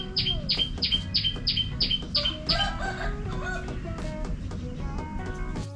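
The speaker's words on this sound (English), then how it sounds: "There are birds." Birds chirp and tweet repeatedly outdoors, with a rooster-like crow mixed in, over a steady low background rumble.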